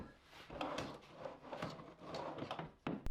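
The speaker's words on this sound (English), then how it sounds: "make sure that everything had enough clearance to open and close freely." Drawers of a workbench storage cabinet slide open and shut in a shop, a soft rumbling slide with small knocks and a sharper clunk near the end, quiet and without talk.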